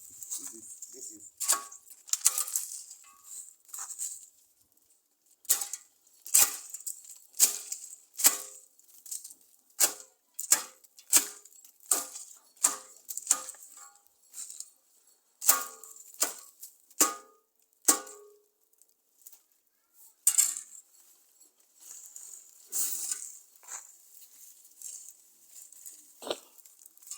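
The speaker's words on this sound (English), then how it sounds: "I'm going to cut from these stems." Plant stems are snipped for garden mulch, giving many sharp, close cutting clicks in an irregular rhythm with short gaps, faint rustling and occasional quiet voice sounds between them.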